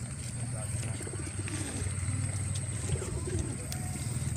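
Domestic merpati kolong pigeons coo in low, repeated murmurs at a pigeon flying ground in Palaran, Samarinda, East Kalimantan. The cooing continues steadily under people talking nearby and a constant background hum.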